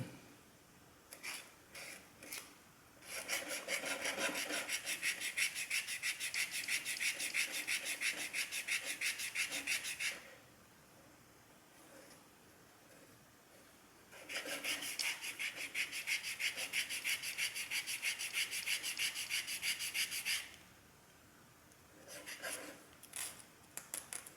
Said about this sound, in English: hold the sandpaper still, or have the sandpaper sitting down on the floor or on a table